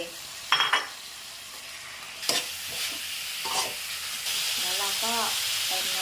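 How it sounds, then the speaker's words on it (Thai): Pork tongue goes into a pan of hot curry paste and is stirred, giving a loud steady sizzle and frying hiss. A few utensil scrapes and clacks sound over it, with a brief voice in the background. "หลังจากนั้น เราก็ใส่ลิ้นหมูที่เราเตรียมไว้ลงไปเลย"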